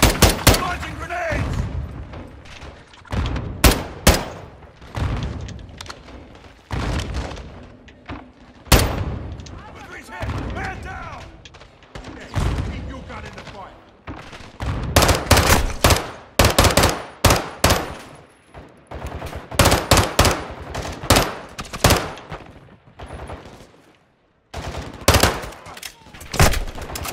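Sustained battle in the Modern Warfare 2 campaign, with loud, dense bursts of rifle and machine-gun fire and heavier booming grenade launches, plus voices shouting between the shots.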